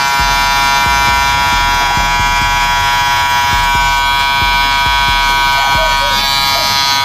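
An electric hair trimmer from a barber kit runs continuously with a loud, steady buzz. Soft knocks and handling noises recur beneath it, and someone talks over it at times.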